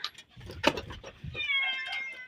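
Cats meowing while a dog harasses them, in a village home: faint, drawn-out cat cries over a soft rustling background, with brief low murmurs of a voice in the mix.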